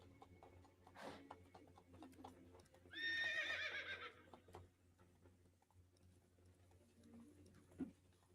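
Roach, Geralt's horse in The Witcher 3, lets out a clear, bright whinny in the middle, between soft hoof thuds and snorts against a quiet outdoor backdrop.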